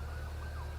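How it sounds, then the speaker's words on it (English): Ambulance siren wailing in the distance, a faint steady tone with a slight pitch sweep over constant low road and engine rumble from inside a 2020 C8 Corvette. "That's an ambulance also."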